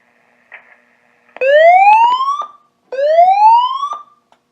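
Notifier NFS2-640 fire alarm panel with AMG voice evacuation plays its evacuation tone: two loud, clear rising whoop sweeps, each about a second long, with a short gap between them and no talking.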